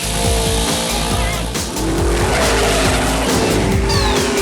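A 1955 Chevy drag race car, an old gas car from the 1960s, at Texas Motorplex: loud, continuous engine roar with tire squeal, close and steady throughout.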